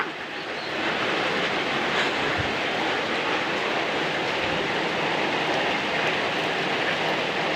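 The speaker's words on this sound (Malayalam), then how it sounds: "അപ്പം നല്ല മഴയാണ് കേട്ടോ" Steady, dense hiss of heavy summer rain falling without pause, loud and close, with no voices.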